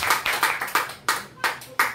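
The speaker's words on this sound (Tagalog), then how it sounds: "Isang malakas na palakpak po para sa ating Panginoon." A church congregation claps loudly in rhythmic unison, about seven sharp, evenly spaced claps in quick succession that sound close and full with no talking over them.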